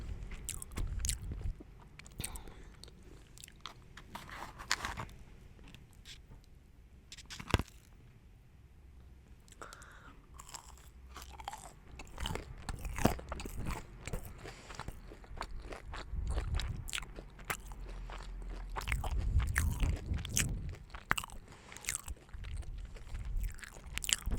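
Close, crunchy chewing and biting of fried Burger King veggie tenders, with moist mouth sounds and soft squishes repeating steadily over a long stretch, recorded intimately with no talk.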